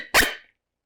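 A single short bark imitated on an open reed predator call, a sharp close burst lasting under half a second and then silence.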